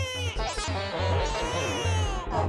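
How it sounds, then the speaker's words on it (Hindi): A small baby crying from a television left on in a neighbouring home, a continuous close wail with rising and falling pitch over a steady low hum, alone without talk. "ये छोटा बच्चा रोने का आवाज किधर से आ रहा है?"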